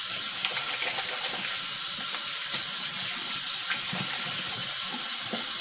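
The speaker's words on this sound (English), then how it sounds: "Wash my hands off." Running tap water splashes steadily into a sink as hands are washed, a continuous close hiss with small splashy fluctuations, during a straight-razor kamisori shave at the bathroom sink.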